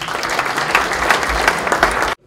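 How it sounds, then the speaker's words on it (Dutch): Steady, dense applause from a crowd at a New Year's reception fills the room at a constant level, with scattered louder claps, then cuts off abruptly near the end. "Mag ik jullie aandacht en een applaus voor Peter van Ekelen."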